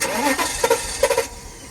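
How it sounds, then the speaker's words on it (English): A 1997 Mercedes-Benz S420 W140 that sat unused for years, started without added fuel at the throttle body; a short cranking burst with a few uneven catches before it fades, close by. "we're gonna go ahead and start it up now without adding any fuel to the throttle body"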